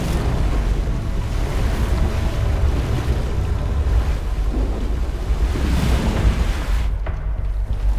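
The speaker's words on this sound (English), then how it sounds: "the water rushes into empty river valleys" Floodwater rushes through an empty river valley in a flash flood, a loud, broad, continuous roar with rolling surges and no talking.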